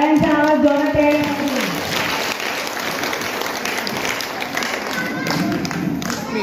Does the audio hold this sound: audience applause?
yes